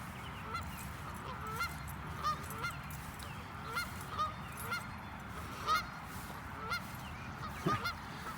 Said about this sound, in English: Wanna go say hello to the geese?